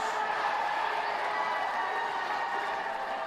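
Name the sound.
tennis crowd cheering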